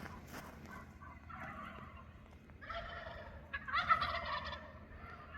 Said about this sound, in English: How many turkeys are there? Wow, there's even more back there.